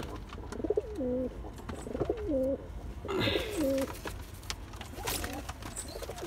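A pair of Hyderabadi pigeons coos in a series of four rounded, rolling calls, spaced at steady intervals and heard fairly close, with no one talking.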